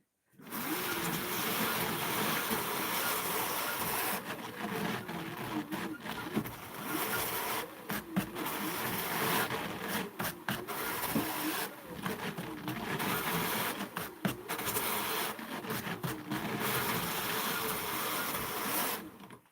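Wool fibre is brushed down with a carding brush in a run of repeated scratchy strokes. The bursts are steady and close, with brief pauses between passes.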